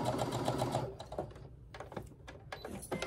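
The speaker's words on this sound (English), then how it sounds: "I find that I'm always sewing in a straight line" A sewing machine joins fabric scraps into a straight seam for a wavy woven quilt, running steadily at first, then in short stop-start bursts with quiet gaps between them, with no talking.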